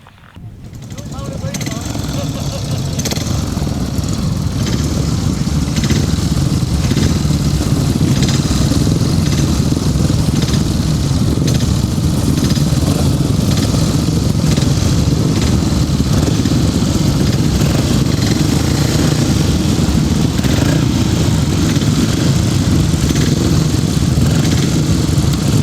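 500cc sidecar outfits racing on a grasstrack, a dense continuous roar of engines at steady high volume throughout, with crowd and announcer voices mixed in.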